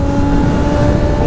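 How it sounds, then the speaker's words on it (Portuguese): Yamaha XJ6 turbo motorcycle engine revving steadily on a road, a loud continuous drone with strong low rumble and a few steady tonal lines, close and alone. "Ó o bagulho acelerando, ó. Não tem, essa moto é muito forte"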